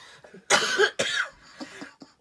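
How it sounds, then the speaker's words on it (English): Deliberate coughing at a campsite: two loud, harsh coughs close by, followed by a softer throat-clearing burst, with short pauses between them. "Do the coughing thing."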